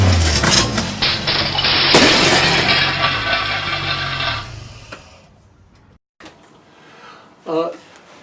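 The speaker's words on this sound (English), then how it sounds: "Design a crash." A crash sound effect of breaking glass with a metal hubcap clattering on a sidewalk bursts loud and dense, a layered smash and rattle that decays over several seconds into quiet, followed by a brief voice.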